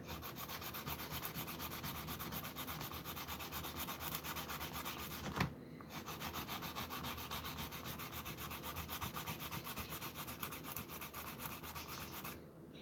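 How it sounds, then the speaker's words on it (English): Close, steady rasping of sandpaper rubbing back and forth by hand on a hard resin model body, continuous and rhythmic with one brief pause. "So yeah, I guess it is kind of hard sanding, heavy sanding."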